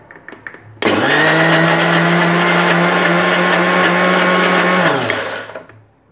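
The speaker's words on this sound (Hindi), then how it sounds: "अब हम इसे मिक्सी में ग्राइंड कर लेंगे।" A mixer grinder whirs loudly and steadily for about four seconds, grinding mawa with saffron water for lassi, then spins down, with faint clatter before it starts.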